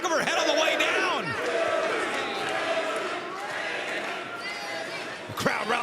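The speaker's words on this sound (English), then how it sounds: "The crowd rallying behind Billie Starkz now here at the sold-out Hammerstein Ballroom." Wrestling crowd in a sold-out Hammerstein Ballroom during a women's match, a loud, dense, continuous roar of cheering and shouting that rises in bursts, with ringside commentary over it.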